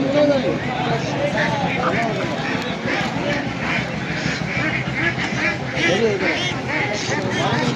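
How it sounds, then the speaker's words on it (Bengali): Ducks at a busy livestock market after Eid, a dense chorus of overlapping quacks close by, mixed with crowd noise and people talking. "এখানে বেশ কিছু একই সময়ের হাঁস আমরা দেখছি"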